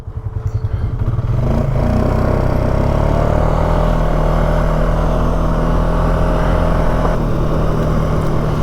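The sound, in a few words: Polaris side-by-side approaching in four-wheel drive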